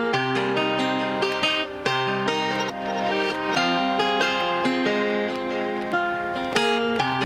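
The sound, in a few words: compressed guitar melody with clicks and noises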